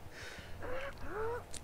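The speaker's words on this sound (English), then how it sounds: "I just realized I was hearing crows quite a bit." Crows caw in the Dead by Daylight video game, with two faint, hoarse calls in quick succession against quiet background ambience.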